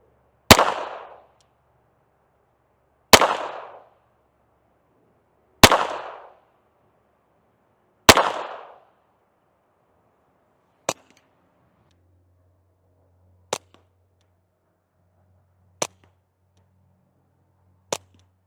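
Eight suppressed rimfire gunshots through a Griffin Armament Checkmate HD suppressor: four sharp cracks with short ringing tails at even intervals, then four thinner, quieter snaps, all spaced a few seconds apart with silence between.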